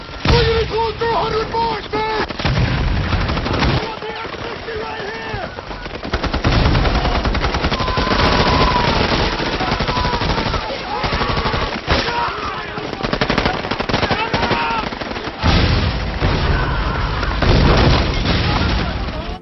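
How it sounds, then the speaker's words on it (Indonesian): Vietnam War film battle in which a US platoon is caught in a Viet Cong ambush: loud, continuous machine-gun bursts, rapid gunshots and booming explosions fill the whole stretch, with shouting voices mixed in. "Situasi yang awalnya sangat hening pun langsung berubah dengan baku tembak yang begitu mengerikan."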